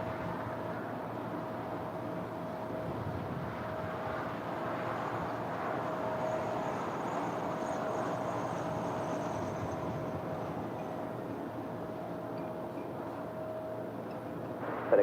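Emirates airliner starting its takeoff roll at LAX, heard as a steady, broad engine roar with a faint high whine, holding level and distant for the whole stretch without clear talk.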